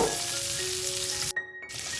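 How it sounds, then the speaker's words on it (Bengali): Eggs fry in hot oil in a kadai for an egg curry, a close, bright, continuous sizzle that briefly drops out near the end before resuming, with no voices. "ডিমটাকেও লাল করে আমি ভেজে নেব"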